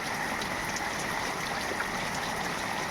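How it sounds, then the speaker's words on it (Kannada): Heavy rain pours down steadily with a continuous broadband wash of falling drops and running rainwater, loud and close, with no voices over it for the whole stretch. "ನೋಡ್ರಿ ಮಳೆ ಹಂಗಾಗತ್ತ"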